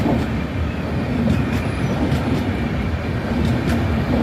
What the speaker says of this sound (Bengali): WP7 Howrah Chennai superfast mail.